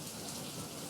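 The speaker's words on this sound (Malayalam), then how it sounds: "തിരുവനന്തപുരം നഗരത്തിൽ ശക്തമായ വേനൽ മഴ. ഇടിയോടുകൂടിയാണ് മഴ." Heavy summer rain falling in Thiruvananthapuram city during a thunderstorm, a dense, steady wash of rain close by with no distinct thunderclap in this moment.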